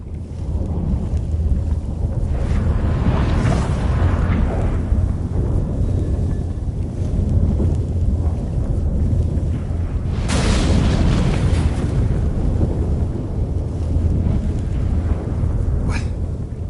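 A sudden storm sweeps in within The Witcher 3 video game, a steady roar of wind and low rumbling thunder swelling at a few moments, loud and continuous with no talk.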